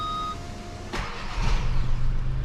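VW Taigo Style 2022 engine restarting through its start-stop system: a sharp starter burst, then the idle settles into a low, steady hum heard from inside the car.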